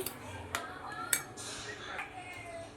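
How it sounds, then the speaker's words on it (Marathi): A spoon clinks against a bowl while upvas thalipeeth batter with peanut powder is stirred, giving light scattered taps and scraping over a soft background. "आता ह्याला आपल्याला छान असं मिक्स करून घ्यायचंय"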